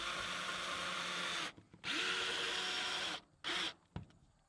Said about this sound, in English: They have an easy start zip tip, helps it kind of just drill directly through the metal instead of us pre-drilling.